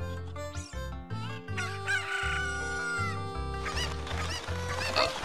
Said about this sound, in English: Murder the chickens, murder the chickens, murder the chickens, murder everything!